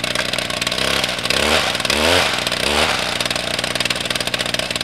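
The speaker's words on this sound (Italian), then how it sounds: "Possiede una motosega." Chainsaw buzzing loudly and continuously for several seconds, its pitch wavering as it revs, within a dense mix of other sound.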